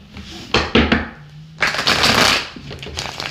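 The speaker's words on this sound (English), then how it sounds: "one more good shuffling, and then ready to go here for you" Tarot cards being shuffled up close, a couple of quick riffling bursts followed by a longer papery flutter.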